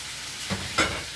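Tomatoes sizzling in a pan over browned garlic for spaghetti with mussels, a steady close frying hiss with two brief stirring scrapes, no talking.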